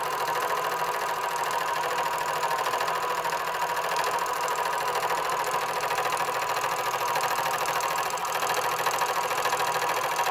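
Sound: Axminster SU1 universal milling machine cutting aluminium

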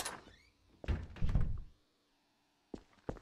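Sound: door opening in the video game Garry's Mod

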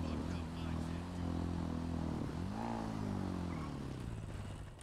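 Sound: motorcycle in the video game GTA V

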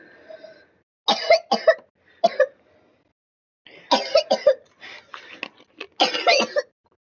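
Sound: person coughing

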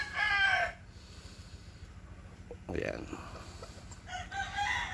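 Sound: chickens, rooster crowing

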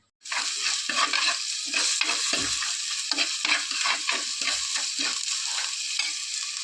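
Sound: coconut oil poured into a hot pot

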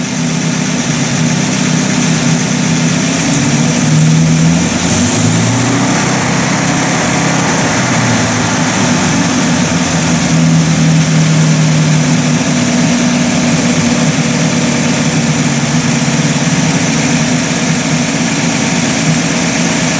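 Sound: Buick Roadmaster engine running with carburetor

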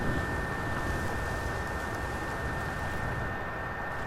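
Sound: PS4 Pro console fan noise, loud like a vacuum cleaner

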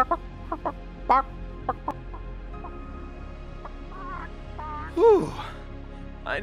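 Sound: chickens clucking in the Fortnite Season 7 trailer

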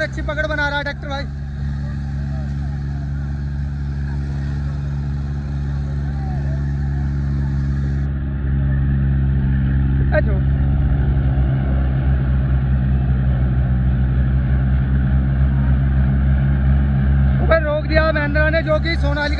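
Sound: Mahindra 585 and Sonalika 745 tractors engines straining in tug-of-war

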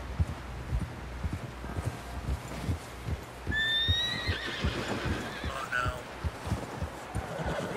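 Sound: horse neighing and hooves in Red Dead Redemption II video game

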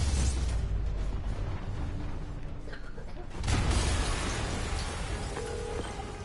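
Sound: explosion in Spider-Man video game

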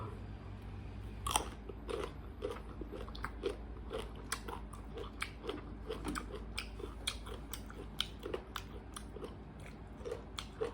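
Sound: crunchy sour mango being chewed

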